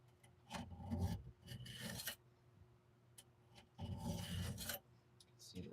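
A hand file rasps along a chainsaw chain during bar maintenance, with several close back-and-forth strokes in two bursts separated by quiet pauses.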